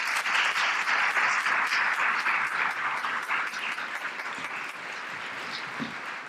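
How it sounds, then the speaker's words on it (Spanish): An audience at a tribute gathering in Madrid applauds an introduced speaker, a dense round of clapping that starts loud and gradually thins toward the end. "Un aplauso para él, ¿no?"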